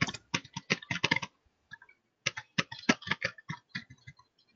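An email address being typed on a computer keyboard, bursts of quick close key clicks with a short pause between runs, crisp and fairly loud with no talking.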